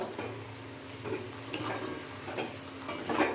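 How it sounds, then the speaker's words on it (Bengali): A spoon stirs milk into chana dal halwa in a pot, giving soft repeated scrapes and clinks at an unhurried rhythm over a low steady background hum, close and moderately quiet. "এটাও খুব ভালোভাবে মিশিয়ে নেব"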